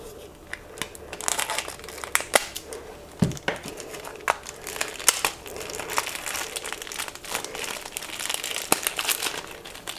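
Crinkling and tearing of a heavily taped package being unwrapped, irregular close crackles and sharp rips continuing throughout.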